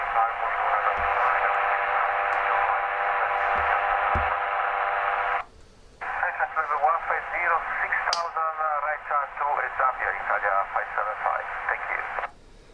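Steady radio hiss and static from a Tecsun S-2000 receiver on its supplied antenna, then a brief dropout followed by warbling, fluttering signal noise with faint chirps, loud and continuous.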